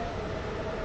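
A train in the Stepford County Railway game approaches a station, a steady rushing rumble that stays even and fairly loud throughout the short moment.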